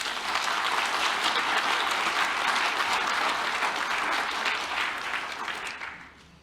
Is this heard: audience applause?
yes